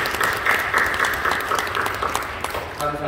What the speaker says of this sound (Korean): 박수해 주시죠.